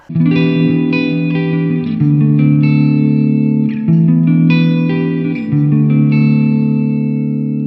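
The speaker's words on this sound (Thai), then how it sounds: "เดี๋ยวลองเสียงคีนกัน" A Jackson JS32TQ Dinky Arch Top electric guitar with a clean, ringing tone plays sustained chords and notes at steady volume, with a touch of effects shimmer and no voices.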